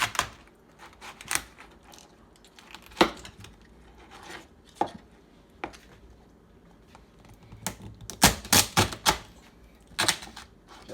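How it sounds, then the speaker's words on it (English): A knife chopping through big, meaty lobster tails on a board, with sharp irregular cracks and thuds, some single and some in quick clusters, separated by quiet gaps. "We're just gonna cut right through the middle. These nice big meaty lobster tails here."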